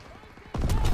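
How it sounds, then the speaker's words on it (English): A grenade explodes in Call of Duty: WW2, a sudden loud boom partway through that rumbles on to the end, following a quieter stretch of game noise. "Ooh, that was a good grenade."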